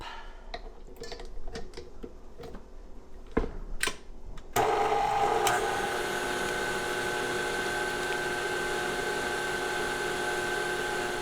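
An electric stand mixer beats tamale masa dough with salt, starting after some clattering and handling noises, then running as a steady whirring hum at high speed, close and even.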